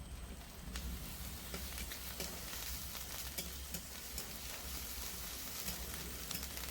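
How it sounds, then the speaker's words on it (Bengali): A soft, continuous sizzle of spices and dry chili powder frying in a pan, with occasional small crackles and pops over a steady hiss. "সব মশলা খুব ভালো করে ভাজা হয়ে গিয়েছে।"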